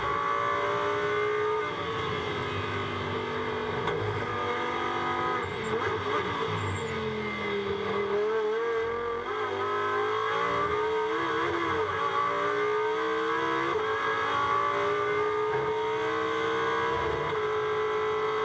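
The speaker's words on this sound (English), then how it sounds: "The Audi makes a great noise and a little bit twitchy." An Audi GT2 race car engine revs hard and continuously on the Algarve circuit, pitch rising and falling through gear changes, recorded close from inside the car with no talking.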